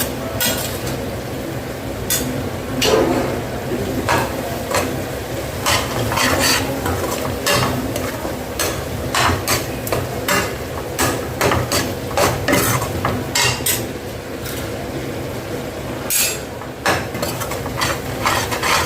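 Fenugreek leaf thokku frying in oil in a pan, stirred continuously with a utensil. A steady sizzle runs under frequent close clinks and scrapes, with no speech.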